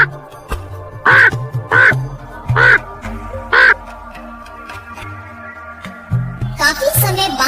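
A crow caws four times in a steady rhythm as a sound effect in a Hindi moral story about a thirsty crow. The calls are loud and close, with a louder burst of noise at the end.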